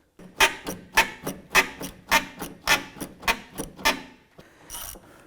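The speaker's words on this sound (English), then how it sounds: "we're going to use a couple extensions to get down inside there and loosen that bolt" A socket wrench fitted with a couple of extensions works a 10mm headlight mounting bolt on a 2011-2018 Ram 1500, giving about a dozen sharp ratcheting clicks in an even rhythm, close and loud, with no voices.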